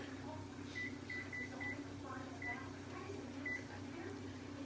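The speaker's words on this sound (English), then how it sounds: "I got a timer." A kitchen timer is set while cooking, giving a short run of quick electronic beeps, four close together, then one more, and a final beep a moment later over a low steady hum.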